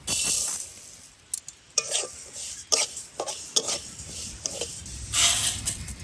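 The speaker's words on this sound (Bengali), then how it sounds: "মুগ ডালটা ভেজে নিচ্ছি।" Mung dal being dry-roasted in a pot for khichuri, with soft scraping stirs, intermittent clinks of a spoon against the pot and a faint sizzle, close and fairly quiet, with no talk.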